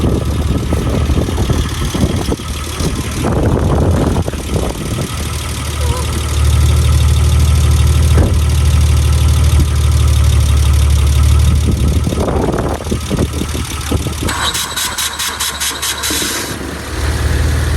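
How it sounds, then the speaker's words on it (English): A car with a boxer engine idles after starting, a loud, steady mid-range engine rumble running throughout with a few brief knocks and shifts in tone. "The car started."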